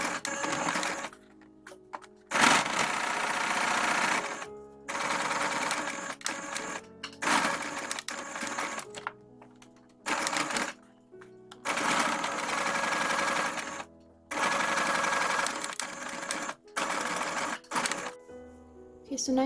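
A sewing machine stitches a fabric face mask close to the edge, running in repeated bursts of several seconds each with short pauses between, steady and fairly close.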